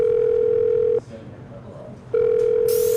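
A courtesy phone's steady dial tone hums loud and close, breaks off for about a second, then starts again unchanged, ending with a burst of hiss.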